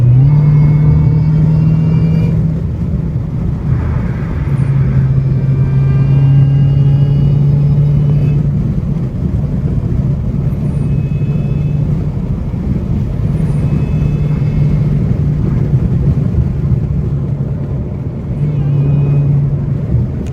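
A supercharged Dodge Hellcat engine with the hood removed drones steadily while driving, with a sustained supercharger whine riding over a low rumble and road noise, loud and continuous.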